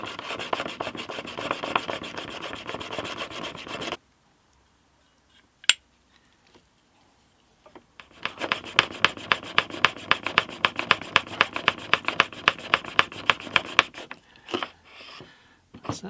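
A blade is sharpened at a 30-degree bevel on a 600 grit plate, giving rapid, rhythmic rasping strokes in two close bursts separated by a few seconds of near silence and a single sharp click.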